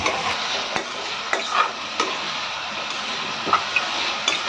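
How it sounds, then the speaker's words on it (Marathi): Onion and green chilli sauté with curry leaves in hot oil, giving a steady close sizzle broken by occasional scraping stirs of the pan. "कांदा आणि मिरची आहे ती आपल्याला परतून घ्यायची"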